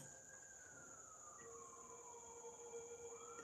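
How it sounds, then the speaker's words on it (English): Distant emergency sirens wail faintly and steadily, their pitch sliding down and back up again. No one speaks. "But do you hear the sirens?"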